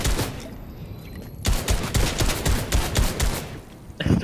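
Rapid pistol shots in the Fortnite video game crack in quick succession, a dense flurry of loud reports after a brief lull, with another burst at the end.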